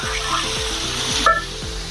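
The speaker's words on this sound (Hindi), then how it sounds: "इसमें डाल देंगे अपने कुंदरू।" Ivy gourd (kundru) hits about one and a half spoons of hot oil in a pan on a gas stove, raising a loud close sizzle and crackle with a sharp burst of spitting partway through.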